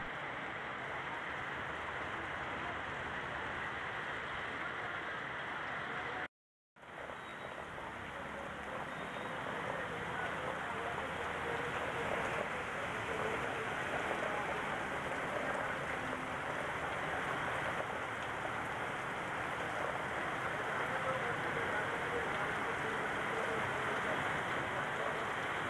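Heavy monsoon rain pours steadily over the Alirajpur district in India, a dense, continuous hiss that stays loud and unbroken apart from one brief cut to silence early on.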